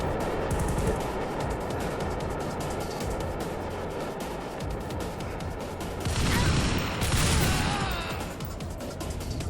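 AK rifle fire from one-handed shooting in the VR shooter Combat Troops VR, a dense run of rapid sharp reports with brief louder bursts near the end, close and steady throughout.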